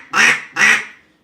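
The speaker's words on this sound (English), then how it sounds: "if you want to blow a quack, it's literally, and it's coming from here" Two loud, nasal duck quacks blown on a call, one right after the other, each with a raspy, buzzy tone and a short trailing fade.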